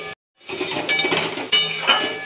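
A spoon or spatula scrapes and clinks against a pan while fish curry spice paste is stirred, a few close metallic knocks and a soft sizzle following a brief silence.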